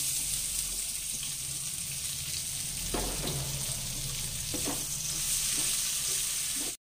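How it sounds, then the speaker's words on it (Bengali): Onion pieces fry in hot oil after fish, giving a steady close sizzle with a few stirring scrapes and clinks partway through, no talking. "আর ওই তেলের মধ্যে আমি পেঁয়াজটা দিয়ে দিচ্ছি।"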